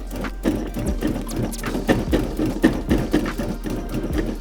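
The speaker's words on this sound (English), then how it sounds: "Add in our frozen cubed butter. And give these a quick pulse." A food processor pulses a dry biscuit mix with frozen cubed butter, a quick run of rhythmic, rattling chops that pulse about twice a second, close and fairly loud with no talking.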